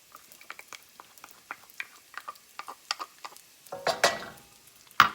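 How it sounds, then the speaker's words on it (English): Garlic sizzling in a pan for bucatini all'amatriciana, a close run of sharp crackling pops that grows denser and louder toward the end, with a brief louder burst. "And we're going to add our garlic."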